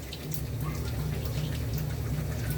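Aloo puri frying in hot oil gives a steady, dense crackling sizzle, close and even throughout, with no talk.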